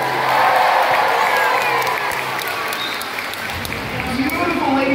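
A crowd at a SeaWorld beluga and dolphin show claps and cheers loudly, with whoops and children's shouts mixed into the sustained applause.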